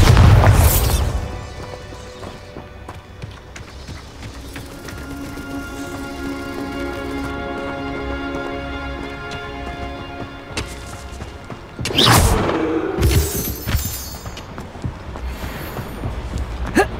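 A spell-cast blast in Hogwarts Legacy, a loud booming burst at the start, a long ringing magical tone, then a second heavy crashing explosion near the end, close and full.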